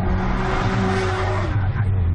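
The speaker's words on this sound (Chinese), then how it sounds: "突然间后方传来巨大引擎声响，轰一声擦肩而过的居然是一部沙滩车高速飙山" An ATV dune buggy speeding up a mountain road roars loudly past at close range, a sustained heavy engine drone that holds steady and then begins to fade at the end.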